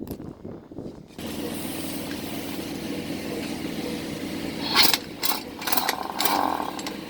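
A pneumatic impact wrench drives the lug nuts onto a Class 8 semi truck wheel after a blown wheel seal is replaced. A steady loud mechanical drone runs throughout, and several sharp hammering bursts follow near the end.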